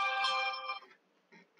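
A phone notification chime rings out during a Warcraft III gaming session, a bright tonal burst that holds for under a second before fading, followed by a faint short echo.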